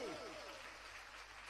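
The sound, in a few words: audience clapping at a religious gathering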